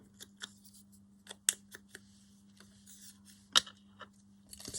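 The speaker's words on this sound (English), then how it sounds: "I've just cut parts of the ticket off" Scissors snip through a paper ticket in a series of short, crisp, close cuts spaced irregularly over a faint steady hum, with one louder snip near the end.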